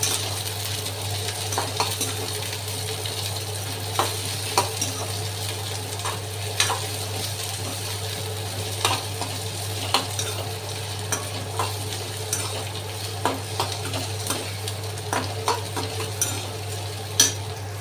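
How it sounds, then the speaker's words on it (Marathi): Onion, ginger and garlic fry in a pan with a constant sizzle over a low steady hum, and a spatula clinks and scrapes the metal in frequent irregular stirs. "कांदा चांगला लाल होईपर्यंत आपल्याला भाजून घ्यायचं आहे"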